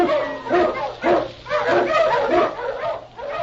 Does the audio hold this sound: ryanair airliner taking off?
no